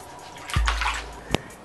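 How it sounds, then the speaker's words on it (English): Shower water running while rinsing dreadlocks clean of a baking soda cleanse, a brief, fairly quiet rush of spray and splashing with a small spattering burst, no voices. "I rinsed my hair to try and get all of the cleanse out of my hair until the water ran about as clear as possible"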